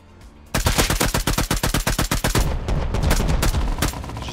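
Automatic rifle fire in the survival game Rust: a rapid burst of about fifteen loud, evenly spaced shots, then a denser roll of overlapping gunfire and echo with no talking.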